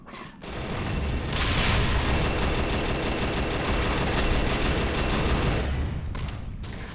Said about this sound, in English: I get spammed down by 2 auto turrets and an M32